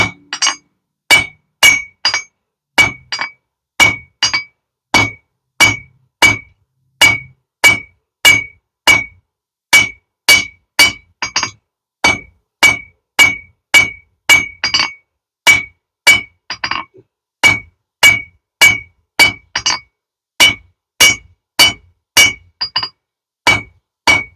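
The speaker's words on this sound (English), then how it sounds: "I'm going to hang over the side of the anvil and work this taper back even on both sides." A bottle opener taper being hand forged with a hammer on an anvil, a long, steady series of loud, ringing metallic strikes about one per second, each with a bright clang and short ring, close and alone.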